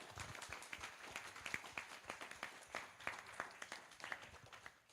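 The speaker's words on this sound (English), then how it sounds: "Clap. Let's clap." Audience at a student council meeting clapping together, a faint, brisk patter of many hands sustained for several seconds with no talk over it.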